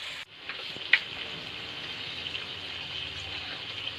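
Carrots and fenugreek cook in an uncovered pan, letting out a soft, steady sizzle that continues throughout. There is a small clink near the start.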